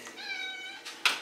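Hungry cats meow close by, one drawn-out, clear meow followed by a couple of short, sharper cries.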